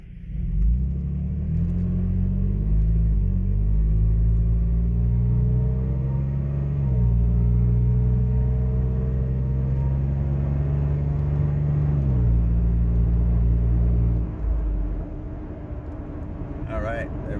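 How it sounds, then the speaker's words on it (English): Toyota Tacoma with a 4.0L engine and custom 3-inch exhaust accelerating from 0 to 50 at part throttle, a deep, loud rumbling drone that climbs in pitch through gear changes, then settles as it eases off; someone talks over it. "now we're gonna go ahead from 0 to 50 with about half or quarter throttle and see what that does"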